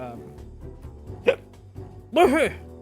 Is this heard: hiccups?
yes